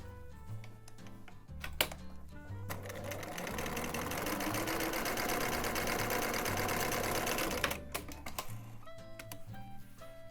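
A sewing machine stitches a narrow zigzag on knit fabric, a steady close mechanical whirring run of several seconds framed by softer clicks and handling noises before and after.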